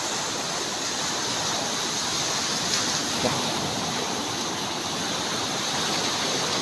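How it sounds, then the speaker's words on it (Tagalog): Large sea waves driven by typhoon Opong crash and churn along a shore near seaside houses, a loud steady roar of broken surf with no pause. "Malaki ng alon dito."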